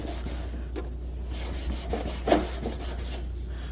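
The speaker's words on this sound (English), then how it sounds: "Just gonna sand it down." Hand sanding of a carbon fiber overfender makes a faint, steady rubbing rasp of back-and-forth strokes over a low background hum.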